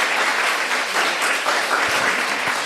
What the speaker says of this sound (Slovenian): En aplavz prosim za Luko Pangosa, ki bo danes z mano.